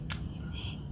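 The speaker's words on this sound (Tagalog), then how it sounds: "Kuliglig yun." A cricket chirps once in a short, high burst over a steady low background hum, with a fainter trill following.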